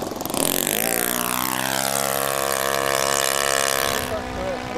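RC Piper Cub model airplane flying with its small engine droning steadily overhead, loud and continuous with a shifting pitch as it passes, while men chat faintly in the background.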